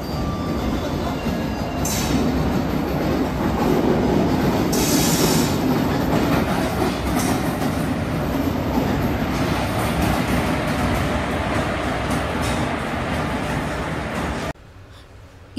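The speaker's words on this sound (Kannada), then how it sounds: "ಫೈನಲಿ ಇವಾಗ ನಮ್ಮ ಟ್ರೈನ್ ಬಂತು." A passenger train pulls into a railway station on an Indian trip, a loud, close rumble of rolling wagons with clattering wheels and faint high squeals, fading abruptly to quiet near the end.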